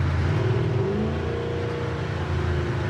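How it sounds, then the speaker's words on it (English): A 1940 Chevy pickup truck's engine hums steadily at road speed, around 55 mph, with a smooth drone mixed with road and wind noise inside the cab. "Engine runs really nice and smooth. It goes down the road nice."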